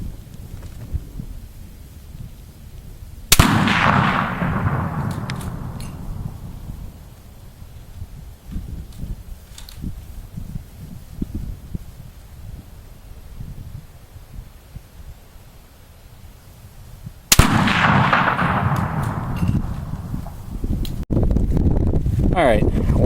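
Two sharp, loud rifle shots from a Mosin-Nagant fitted with Smith sights crack about fourteen seconds apart, each followed by a fading outdoor echo, with wind noise throughout.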